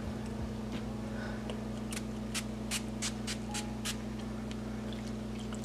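Cucumber-scented drugstore makeup setting spray misted onto a face, several short sharp hissing spritzes in quick succession, close and fairly loud over a steady low electrical hum.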